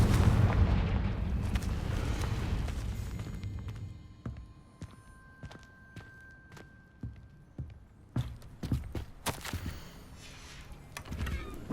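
Confringo fire-spell blasts in the video game Hogwarts Legacy: a heavy rumbling roar at first, then a series of sharp cracking hits and impacts over quieter game ambience.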